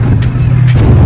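A couple of heavy booming blasts burst over a constant low rumble at Kirana Hills in Pakistan, sounding distant and muffled like explosions rolling across open ground.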